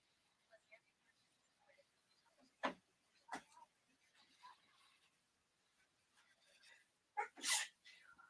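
A single sharp sneeze sounds close by during a relaxed live reaction chat, with quiet background murmurs and small noises around it and a second loud burst near the end.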